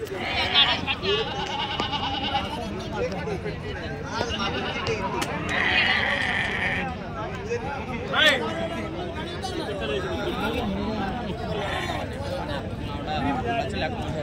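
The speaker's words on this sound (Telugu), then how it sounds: "ఇక్కడ మేకలు బాగా వస్తాయి" Goats bleat repeatedly at a busy livestock market, their calls rising over a constant babble of people talking and bargaining nearby.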